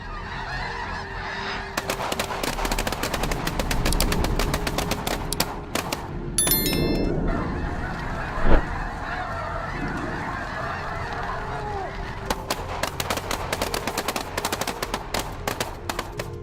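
Geese honking during a goose hunt, a dense chorus of calls over a steady rumble, with rapid trains of sharp cracking shots and a single louder bang near the middle, heard without any voices.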